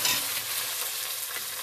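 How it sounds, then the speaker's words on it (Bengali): Chicken pieces fry in hot oil, giving off a loud, continuous crackling sizzle with a brief stir at the start. "চিকেনগুলো আমি নিয়ে করে ভেজে নেব"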